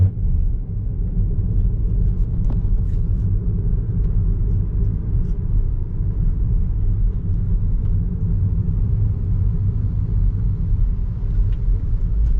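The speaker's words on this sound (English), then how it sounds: "That's a lot of traffic today." Continuous low road rumble from inside a car moving through traffic in Macau, from Taipa toward Coloane, steady and loud throughout, with no voices.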